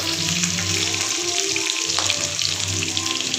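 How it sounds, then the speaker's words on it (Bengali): Two pieces of chicken frying in a pan, a loud steady sizzle with a bright crackling hiss running throughout, close and uninterrupted. "আমি কিন্তু একটু চিকেন ভেজে নিচ্ছি দেখো"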